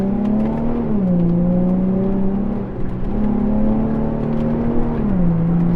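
A Nissan 350Z Cabriolet with a Tiptronic automatic gearbox revs its naturally aspirated engine under throttle, a loud close hum that steps up and down in pitch with gear changes, continuous and with no talking.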